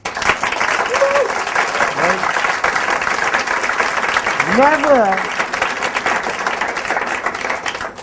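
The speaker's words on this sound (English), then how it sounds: "That deserves a round of applause." A large audience at a business seminar breaks into sustained, dense applause that runs loud and continuous throughout, while a speaker's voice cuts through with a couple of short exclamations partway in.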